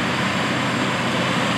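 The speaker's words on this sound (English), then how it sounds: "We can see the big tractor doing what it's built to do, and that is heavy tillage." A Case IH 620 hp Quadtrac tractor pulling a 9-shank Case IH tillage implement in heavy tillage, a loud, steady engine drone with a continuous rumbling roar and no voices.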